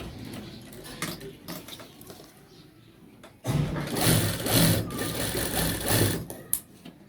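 A sewing machine stitches a two-piece men's shirt collar in loud, steady bursts, starting and stopping several times up close with no talking.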